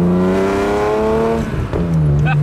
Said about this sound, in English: It's still a straight six engine.